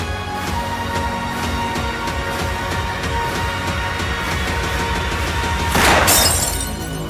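A drinking glass breaking in a dramatic domestic scene: one sharp, bright shatter near the end, following a steady low background hum with faint rhythmic knocks.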